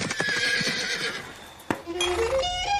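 A horse neighs in a descending whinny over a busy outdoor event crowd at a motorcycle racing gathering, with a sharp knock partway through and chatter around it.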